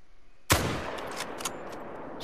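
A single loud rifle shot cracks out in a hunting video game set on a New England mountain, followed by a long rolling echo that fades slowly.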